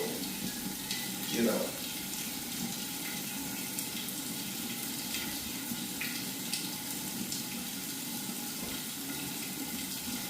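Water pours steadily into a 125-gallon aquarium tank, a continuous rushing fill heard at close range throughout, with one brief splashy surge early on.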